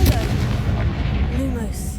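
In the Hogwarts Legacy video game, a Confringo spell goes off as a loud, close blast with a sharp boom at the start, followed by a rolling rumble that lingers for about two seconds.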